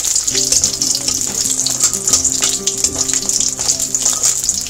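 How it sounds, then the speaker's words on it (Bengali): Bori lentil dumplings frying in oil for Bengali shukto, a dense, even hiss and crackle heard close up, with soft background music underneath. "আর এই বড়িটাকে একটু লাল লাল করে ভেজে নিতে হবে।"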